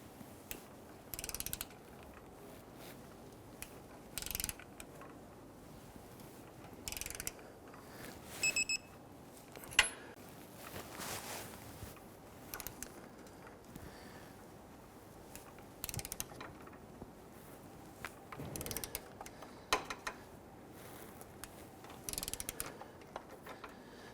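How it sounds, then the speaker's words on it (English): A torque wrench tightens the front lower control arm bolts on a 2007-2014 Cadillac Escalade to 129 foot-pounds, giving scattered ratcheting and mechanical clicks, some sharp metallic taps, and quiet pauses between bursts. "We're going to torque these to 129 foot-pounds."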